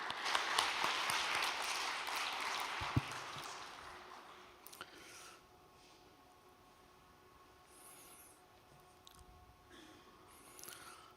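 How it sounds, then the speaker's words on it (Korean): Warm audience applause welcomes a speaker at an overnight church devotion, a broad wash of clapping for about four seconds that fades into quiet room tone with faint scattered claps. "따뜻한 박수로 맞이해 주시면 감사하겠습니다."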